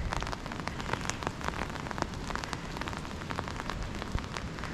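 Steady rain falling at an open-air history museum near Cardiff, a dense even patter with sharp individual drop hits throughout, close and constant, with no voices.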